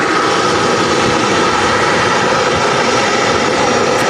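A Gulf Air Boeing Dreamliner taxis at Manchester Airport, its jet engines producing a loud, steady broadband roar and whine that fills the whole stretch without pause.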